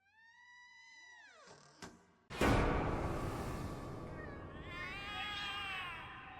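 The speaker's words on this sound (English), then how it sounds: "The cats are alarming." Cats in a game meow in alarm: a drawn-out, falling wail, a sharp burst, then a loud, harsh caterwauling yowl that continues close up.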